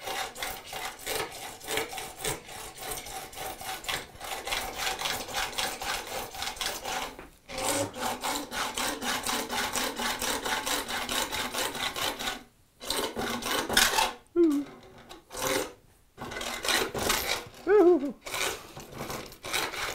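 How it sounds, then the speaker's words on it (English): Hacksaw with worn teeth cutting a wooden panel gauge piece to length, steady rhythmic rasping strokes up close, broken by brief pauses, with the cadence picking up toward the end. "I'm going to grab my hacksaw, which hopefully I have good teeth on that"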